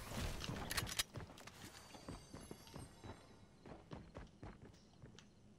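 An approaching player's footsteps in the video game Fortnite, a steady run of soft, fairly faint thuds following a louder burst of game noise at the start.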